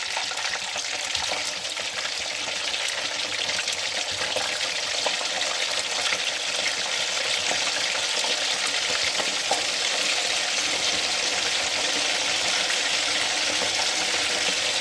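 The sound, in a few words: masala chicken frying in oil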